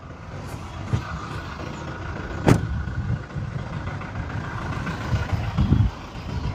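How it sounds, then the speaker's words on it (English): A 2019 Toyota Innova Crysta 2.4 VX diesel idles with the bonnet open, a steady low engine rumble close by, marked by a sharp transient near the middle and a few louder swells. "coming on to the bonnet of this car and the engine sound"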